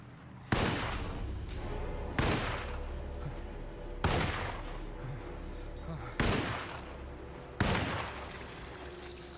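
Gunshots in the video game Alone in the Dark: five loud, sharp shots spaced about two seconds apart, each with a short echoing tail, over quiet ambient background with some speech.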